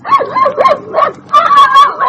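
A dog barks and yips loudly and close up in an old radio drama, a quick series of high, whiny barks with a brief pause midway.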